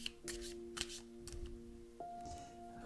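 Tarot cards rustle and slide as they are drawn from the deck in a few soft, quick handling sounds, under steady sustained background music tones.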